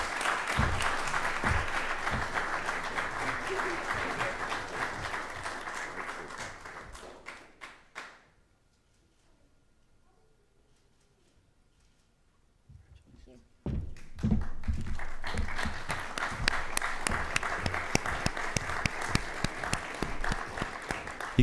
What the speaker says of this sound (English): You guys are learning this second round of applause thing here, right?